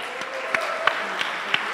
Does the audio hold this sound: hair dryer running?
no